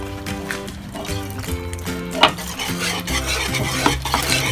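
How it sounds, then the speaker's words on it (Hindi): A spoon stirs boiled macaroni into sauce in a pan for macaroni and cheese, giving steady scraping and clinking over a low sizzle. Faint background music or voices run underneath. "मैकरोनी को मिक्स करके अच्छी तरह इसको आप चम्मच के साथ मिक्स कर दिए"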